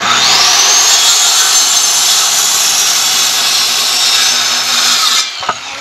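A power saw makes a final cut through wood for a poultry and quail watering stand, a loud steady whine that holds for about five seconds before cutting off abruptly and winding down.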